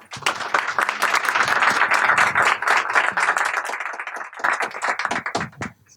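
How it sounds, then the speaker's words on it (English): An audience claps for a speaker at an evening talk, a dense burst of many hands that swells, holds for several seconds, then thins into scattered claps and fades. "so please give her a round of applause"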